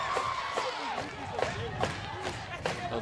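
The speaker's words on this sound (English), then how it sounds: "The crowd here on the Hampton side is getting into it" A crowd on the Hampton side cheers at a high school football game between the Bethel Bruins and the Hampton Crabbers, a broad rumble of voices and shouts with rhythmic whoops, under an announcer's talk.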